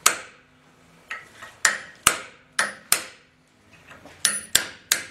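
A hammer drives a chisel against a Jeep LJ axle bearing, about a dozen sharp, ringing metal strikes arriving in irregular bursts and short runs, loud and close, with brief pauses between.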